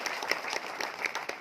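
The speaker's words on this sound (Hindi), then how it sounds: "इसके लिए जोरदार ताली" Loud, dense applause from an audience at a Friday business training session, continuous crowd clapping with no pauses throughout.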